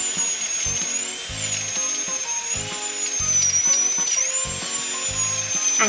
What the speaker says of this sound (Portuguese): Vou ter que usar a broca.